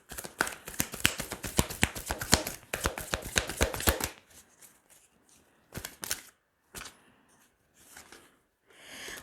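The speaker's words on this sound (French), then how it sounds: "On va tirer 3 cartes." Tarot cards being shuffled in a rapid riffling burst for about four seconds, then a few separate slaps and flicks as cards are drawn and laid down, close and quiet otherwise.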